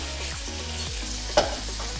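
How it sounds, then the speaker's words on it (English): Bacon fries in a pan with a dense, continuous sizzle, joined by a steady low hum and one sharp tap of a utensil partway through. "Check on the bacon."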